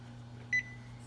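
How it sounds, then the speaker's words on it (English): A kitchen timer sounds a single short electronic beep while cupcakes bake, standing clear above a steady low appliance hum with no talk. "Let me turn off the timer for the little guys."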